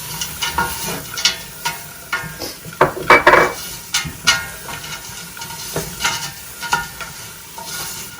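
Vegetarian crumbles seasoned with cumin and plain ground black pepper sizzle in a pan while a utensil stirs and scrapes, making repeated clattering strokes over a constant frying hiss.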